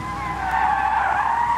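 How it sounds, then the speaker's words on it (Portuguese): A car brakes hard in a radio road-safety spot, its tires squealing in a sustained, loud, near screech with no voices over it. "Chefe está freando."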